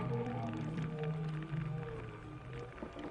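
A whale call is broadcast underwater as a lure for Basilosaurus, long low moans and sliding tones over a murky watery rumble, fairly loud and steady with no voices.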